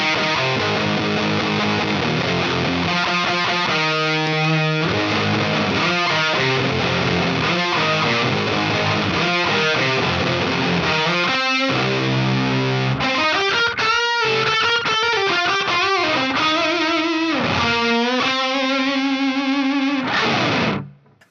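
Heavily distorted electric guitar played through a Gear4Music Beartooth distortion pedal plays chords and riffs continuously, thick and saturated, ending with an abrupt cutoff.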